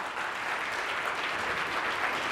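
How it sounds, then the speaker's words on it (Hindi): Steady, dense applause from a seminar audience, a continuous wash of many hands clapping at moderate loudness with no voices over it. "एक बार जोरदार तालियां हो जाए आप लोगों के लिए"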